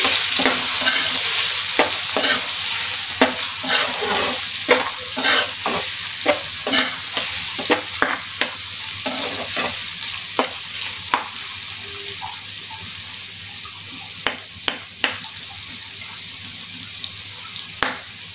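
Potatoes with turmeric fry in a pan while being stirred, a steady sizzle under repeated scraping and clacking strokes of the spatula at an irregular rhythm, close and fairly loud, with no talking.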